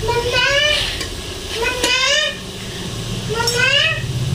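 Curry frying in a pot in a village kitchen in Pakistan, a steady sizzle under repeated stirring scrapes, while someone talks over it almost throughout.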